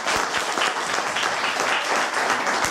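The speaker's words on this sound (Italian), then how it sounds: "Facciamo un applauso" An audience at a dinner show applauds Umberto Sardella, dense steady clapping filling the room for a few seconds with a couple of sharper close claps.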